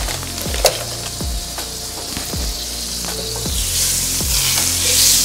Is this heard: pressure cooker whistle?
no